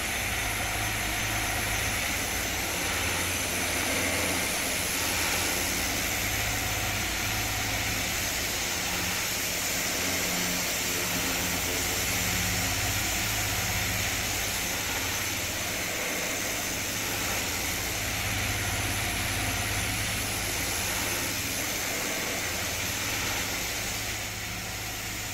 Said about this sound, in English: Turn that down a little bit loud there, those engines.